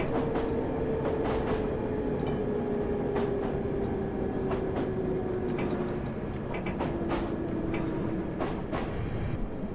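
A D78 Stock London Underground train on the Piccadilly line in Train Simulator 2018 rolls in, with a steady rumbling drone, a slowly falling motor whine and regular clicking wheel beats over rail joints, heard from a passenger's view.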